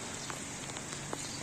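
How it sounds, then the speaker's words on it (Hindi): Heavy rain falls in the mountains around Chitral town, a dense, even hiss of steady downpour with a few distinct drops standing out over the wash. "किस तरह ख़तरनाक बारिश की सूरत हाल अभी है चित्राल टाउन में"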